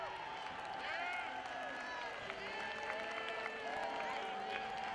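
Crowd at a minor-league baseball game between the Sugar Land Skeeters and Long Island Ducks cheers and claps steadily, a dense, sustained roar with a voice talking over it.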